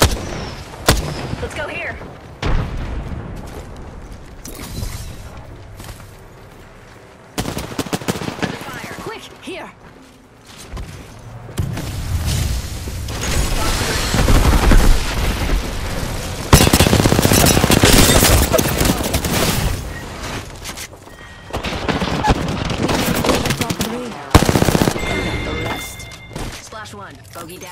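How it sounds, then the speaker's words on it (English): A video game firefight erupts in repeated bursts of gunfire and heavy booming shots, some close and loud, others more distant, with short lulls between volleys while a player calls out briefly. "They're shooting at me."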